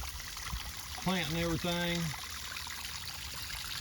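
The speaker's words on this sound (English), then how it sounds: "sounds good, the water's really flowing good" Water rushes steadily over a DIY backyard waterfall built without a liner and fed by a Harbor Freight pump and a water hose. The flow is a constant close hiss, and someone speaks briefly over it.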